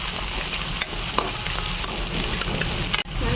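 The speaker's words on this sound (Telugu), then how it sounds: "4 ఉల్లిపాయలు పెద్ద సైజువి కట్ చేసుకుని అలా చిన్న పీసెస్ కింద చక్కగా వేయించుకోవాలి." Chopped onions frying in a pan give a loud, steady, close sizzle with occasional stirring scrapes, and no voices are heard.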